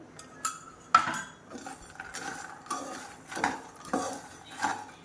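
Makhana chivda for fasting being mixed with powdered sugar, a utensil scraping and clinking against a metal bowl in irregular bursts, close and moderately loud, with no talking.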